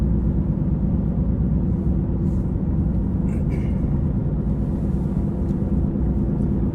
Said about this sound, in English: We are just driving out to the trailhead.